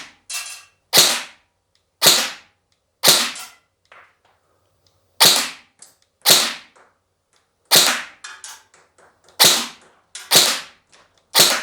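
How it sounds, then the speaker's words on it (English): Specna Arms RRA SA-C10 Core or E10 Edge electric airsoft rifle firing single shots on a field test range: ten sharp, loud cracks, one at a time with uneven pauses and a faint mechanical clack between some. "let's put 10 rounds in really carefully here."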